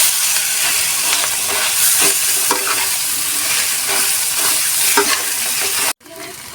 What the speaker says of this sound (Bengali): দিয়ে দিচ্ছি মাখানো আলুটা দিয়ে ভালো করে মাখিয়ে নিতে হবে